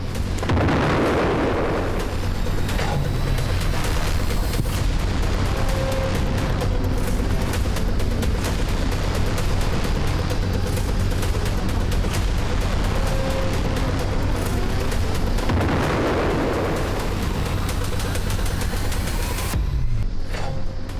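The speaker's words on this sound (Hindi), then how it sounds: "बम जैसे ही जमीन को चूमता है, एक के बाद एक कई जोरदार धमाके होते हैं।" Heavy, continuous rumbling booms roll on as bombs dropped from a B-1 bomber hit the ground, with louder blasts near the start and again around the middle, exploding one after another.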